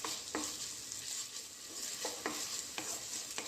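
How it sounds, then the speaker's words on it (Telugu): Salted onions frying in a pan for a tomato and okra curry, a steady soft sizzle broken by several scraping clicks of a spoon stirring against the metal, faint and close with no one talking. "ఉల్లిగడ్డల్లో అంతా మిక్స్ చేసే వరకు బాగా వేయించుకోవాలి."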